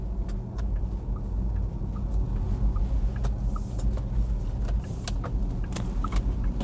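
Porsche Taycan electric car cornering hard at high speed, a steady loud road and tyre rumble filling the cabin with no engine note, scattered small clicks and rattles over the constant drone.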